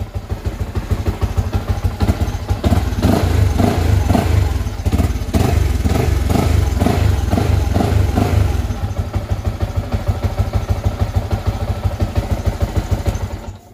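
A motorcycle engine idling after timing adjustment, a steady rapid mechanical putter with a brief louder blip in the middle, running close and alone.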